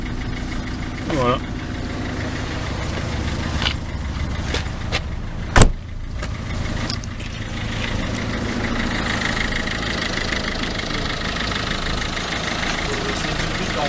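A Peugeot car engine idles steadily after an oil change, a low continuous rumble under brief talk, with a sharp click partway through.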